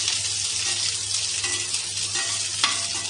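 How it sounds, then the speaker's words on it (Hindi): Onions fry in hot oil in a pan for bhindi do pyaaza, a dense, steady sizzling hiss that stays loud and close throughout, with a faint stirring clatter now and then. "पैन हमारा गर्म हो गया है, हमने इसमें ऑयल डाल दिया है। अब हम भून लेंगे प्याज।"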